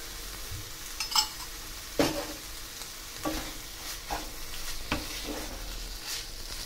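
A spoon scrapes and stirs thick Kasi halwa cooked with ghee in a pan, giving a series of soft, separate strokes about a second apart over a faint sizzle, close and fairly quiet.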